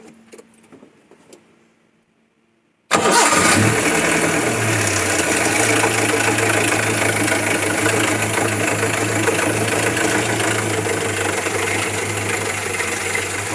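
A car engine with a rough, jammed-sounding running condition cranks and catches abruptly after a quiet lead-in, then settles into a loud, steady, slightly uneven idle close by.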